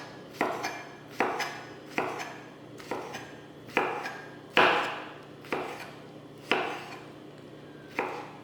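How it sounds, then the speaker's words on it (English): Oranges sliced on a board for marmalade, a steady series of about ten crisp knife chops in an even rhythm, close and clear with no talking. "I finished slicing up all of my oranges."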